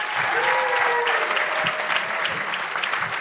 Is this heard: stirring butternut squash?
no